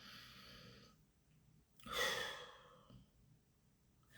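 A person takes a slow breath in and then a long, audible exhale during a guided emotional release exercise. The breathing is close and soft, with a single clear release in the middle and near-silence around it.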